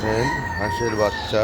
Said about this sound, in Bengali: মোরগ ডাকতেছে